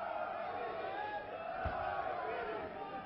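A wrestling-match crowd shouts and cries out steadily throughout, a dense, continuous roar of many voices with a slight swell near the middle.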